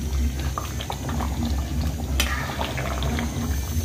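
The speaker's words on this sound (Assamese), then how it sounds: "মাংসৰ লগত জোল ৰেডি একদম ধুনীয়াকৈ উতলিছে" A pot of meat curry broth bubbles at a steady rolling boil, close and fairly loud, with a continuous gurgling texture and small pops throughout.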